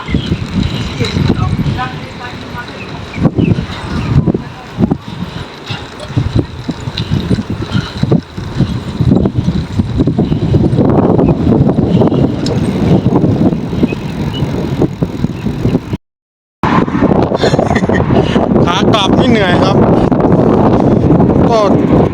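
Strong wind blows outdoors, roaring and buffeting across the microphone almost continuously, with a brief dropout near the end. Someone talks over it throughout.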